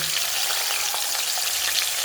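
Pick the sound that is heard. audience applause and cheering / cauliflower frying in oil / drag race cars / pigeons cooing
cauliflower frying in oil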